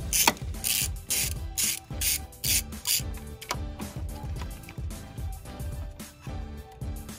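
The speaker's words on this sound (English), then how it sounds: "So now we're gonna unscrew the base right here with the e-torque." Electric torque driver unscrewing the charge pipe base on a BMW F80 M3, giving a series of loud, rapid ratcheting mechanical bursts with short pauses between them.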